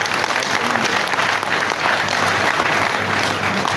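Sustained applause from a live audience at a verification event, dense and steady throughout, filling the hall at full volume with no talk over it.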